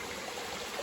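Natural spring water runs steadily as clean, flowing water feeding a set of pools, giving a continuous broadband rush with no talk over it.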